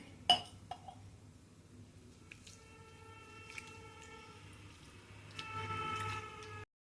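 A glass of rice is rinsed in water, with quiet squishing, small drips and occasional light clinks against the vessel. The sound stays soft and close, and no one speaks.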